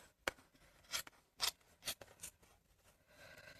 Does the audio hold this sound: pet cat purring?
no